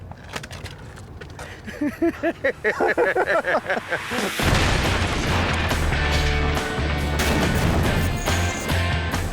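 A crash test dummy is fired from a cannon: a loud blast at about four seconds gives way to a sustained, heavy roar, preceded by voices talking and building excitement.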